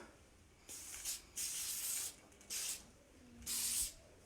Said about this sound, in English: get going with the hairspray, the Trop Chic